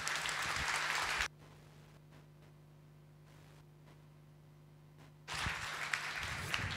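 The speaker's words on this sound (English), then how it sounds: "those applause are definitely worth it" Applause from an event audience in Vilnius rings out briefly, breaks off into a low electrical hum for about four seconds, then returns as a second burst of clapping.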